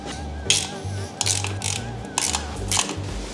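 Metal M10 bolts, 40 mm long, ratcheted into a Volvo 740 T5 engine during assembly, giving several bursts of quick clicking pawl strokes with short pauses between them, close and clear with no talking.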